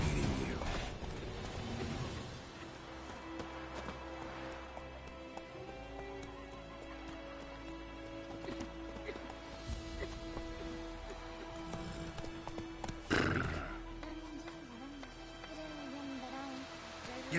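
A horse in The Witcher 3 runs with faint, soft hoofbeats under a music bed, and a short louder burst comes around the middle; any neigh is not clearly distinct.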